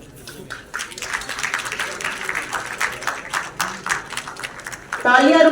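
An audience claps at a district-level Constitution Day ceremony in a university hall, a steady patter of applause under a speaker's voice, swelling louder near the end.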